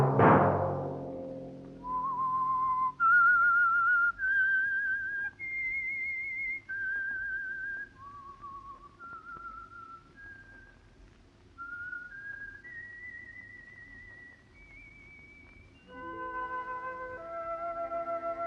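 A single person whistles a slow, clear melody, note by note with short pauses, after a brief low musical chord at the start.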